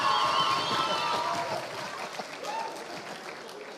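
Audience at a master's graduation ceremony applauds, a dense wash of clapping that is loudest at the start and then softens, with a little talk mixed in.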